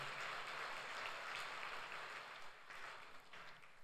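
A church congregation claps during a Sunday service, dense steady applause that is fairly quiet and thins out toward the end.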